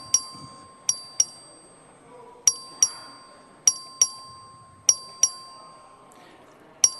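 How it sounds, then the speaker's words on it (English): A bell rings for a record vote in the Texas House chamber, sounding as clear, bright metallic dings, often in quick pairs, repeating at a regular pace over faint room murmur. "The clerk will ring the bell."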